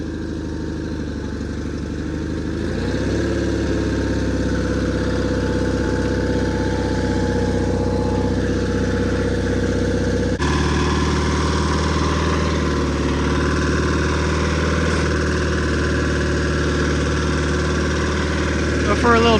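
Small engine of a John Deere 316 lawn tractor idling steadily after starting, a continuous loud mid-pitched drone with a slight shift partway through, while a person talks over it.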